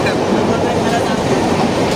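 A train rumbles along steadily, a dense continuous roar of wheels and carriage noise filling the space, with muffled voices mixed in.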